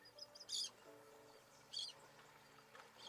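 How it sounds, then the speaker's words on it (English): Two brief bursts of video-game bird chirping sound faintly against a quiet ambient background, spaced about a second apart. "Chirping of the birds and the sound of the waves echoes on forever."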